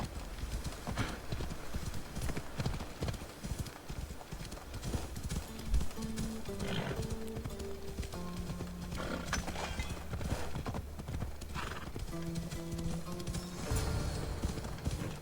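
Horse hooves clip-clop steadily at a gallop in a video game, with a couple of neighs and whinnies breaking through over game music and ambience.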